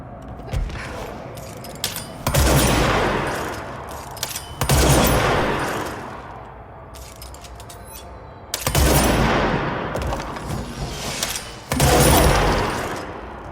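Bursts of gunfire from the video game Control, several loud rapid volleys separated by short pauses, each with a ringing metallic tail and some lingering echo, no voices.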